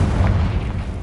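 A Confringo spell blast in the video game Hogwarts Legacy, heard as one loud, deep, rumbling boom that fills the short moment.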